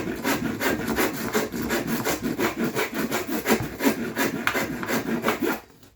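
Hand saw cutting box joints into a wooden board, a steady back-and-forth rasping rhythm of close, loud strokes that stops abruptly at the end.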